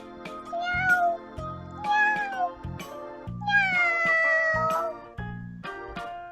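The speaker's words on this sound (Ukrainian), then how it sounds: "Є у кішки малі кошенята." A cat meows several times in drawn-out, rising and falling cries over a steady musical backing.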